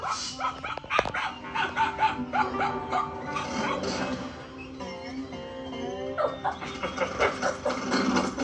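A dog barks and whimpers in an animated scene. Yips and short barks come repeatedly over busy background music and sound effects.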